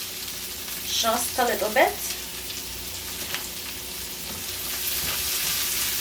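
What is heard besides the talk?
sautéing garlic, pimento peppers and carrots in a pan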